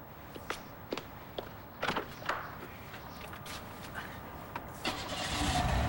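A car ignition cranks and the engine starts in a television drama scene, with scattered clicks and knocks, then a rising mid-pitched engine rumble toward the end.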